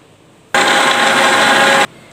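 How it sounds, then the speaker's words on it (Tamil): A mixer grinder motor whirs into a loud, even high-pitched roar for over a second while blending lemon juice, then cuts off abruptly, close up. "இப்போ மிக்சியில் அடிச்சுக்கலாம்."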